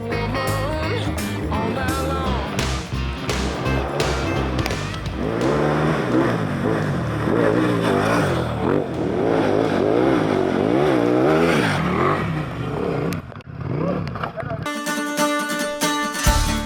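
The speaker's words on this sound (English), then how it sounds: "Blasting along these tracks on a Super Tenere with a great group of riding buddies was just awesome" A Yamaha Super Tenere motorcycle, riding with a group on Himalayan dirt tracks toward Everest Base Camp in China, is heard close and loud. The engine revs repeatedly rise and fall before the sound cuts away abruptly near the end.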